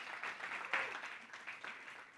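Brief, fairly soft applause from a church congregation during a sermon, a short patter of clapping hands with a few louder claps.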